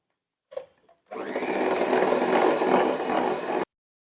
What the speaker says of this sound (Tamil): அதில் சொன்ன மாதிரியே தான் கொஞ்சம் கொஞ்சமாக சேர்த்துட்டு கேர்டிலாகாமல் இதை பீட் பண்ணணும்